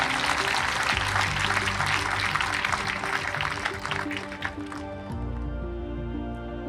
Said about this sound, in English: So I think that really deserves a round of applause.